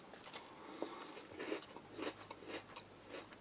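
Someone bites into and chews crisp, sweet dessert biscuits from a Spanish Army breakfast ration, giving a few faint, separate crunches spaced about half a second apart, close up, with no talking.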